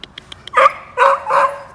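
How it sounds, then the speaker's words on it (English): Dogs barking close and loud, a few quick sharp yips followed by three fuller barks spaced in an uneven rhythm, alone without talk. "Oh, those dogs."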